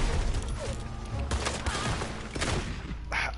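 Gunfire in the video game Red Dead Redemption Online, a scattered run of sharp shots over a noisy game soundscape, fairly loud and irregularly spaced.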